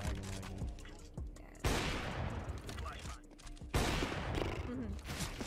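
Rapid bursts of automatic gunfire from a first-person shooter video game, loud and dense, with abrupt onsets and sustained rattling volleys, and what may be a voice faintly underneath.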